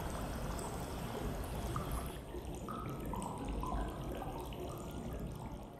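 Synthetic flowing water streams steadily, a dense hissing wash with scattered bubbly drips and splashes, fairly quiet and alone.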